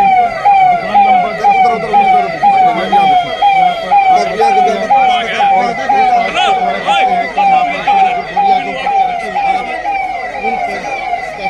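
Fire brigade siren wailing at a fire in a grain market, loud and close with a rapid repeating up-down warble throughout, over traffic noise and a voice talking.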